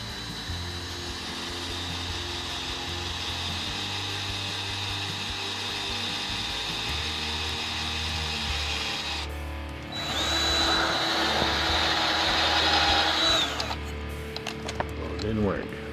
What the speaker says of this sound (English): I will drill my holes.